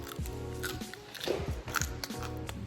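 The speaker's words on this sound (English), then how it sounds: "This is how it should sound like when you're eating the bánh xèo" Crisp, crackly crunching bites of a crunchy bánh xèo (Vietnamese pancake), several in quick succession, close up with a faint low hum beneath.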